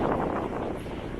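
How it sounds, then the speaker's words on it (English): Strong stormy wind on the coast at Singaraja, Bali, roars as a loud, continuous broadband rush buffeting the microphone, steady for the whole short stretch with no voices. "still really windy and stormy"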